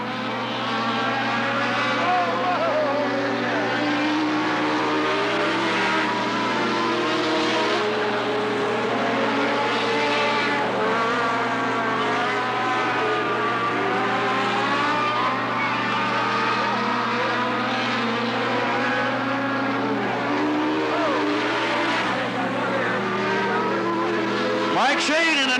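Race cars circle Cottage Grove Speedway, a Riverside short track, in a 1991 event, their engines a continuous loud droning roar rising and falling as they pass, under a steady stream of announcer commentary.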